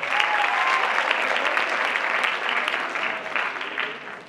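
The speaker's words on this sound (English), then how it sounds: "Big applause for Catherine Ali." An audience at a teen workshop in Amman, Jordan gives sustained applause for a participant, steady and dense throughout before easing slightly at the end.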